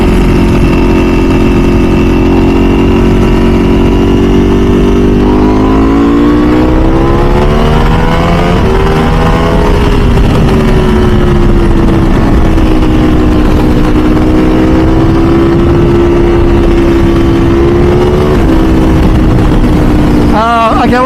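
A Ducati V4 SP2 motorcycle engine on the freeway, a loud, continuous close roar with a wind-buffeted rush, its pitch dropping briefly through a downshift and then climbing steadily under acceleration.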